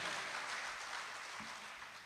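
Audience at a Hindi kavi sammelan poetry recital clapping steadily, a continuous wash of applause heard from a distance, fairly soft and even throughout.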